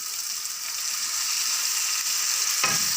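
Pancit noodles fry in a hot pan as soy sauce goes in, giving a loud, continuous hiss and sizzle with a brief stirring scrape near the end.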